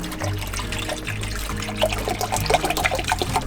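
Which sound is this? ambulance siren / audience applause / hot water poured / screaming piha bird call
hot water poured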